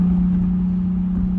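A Nissan 350Z with a 3.5-liter VQ V6 and six-speed manual is heard from inside while driving, giving a steady, loud low drone with a strong sustained engine hum and no talk.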